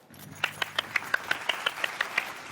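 A single person's steady, rhythmic clapping in a drama scene: around a dozen crisp, evenly spaced claps, close and fairly loud, with low room murmur underneath.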